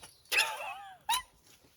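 A dog digging up a fence post on an off-grid Alaskan homestead lets out two high, drawn-out whimpers that slide downward in pitch, close and clear, with quiet pauses between them.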